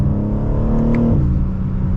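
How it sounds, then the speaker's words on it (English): A BMW M3 Competition engine drones loudly and steadily, its pitch rising then settling as it accelerates, heard close from inside the car. "let's start off behind the wheel for the M3 Competition"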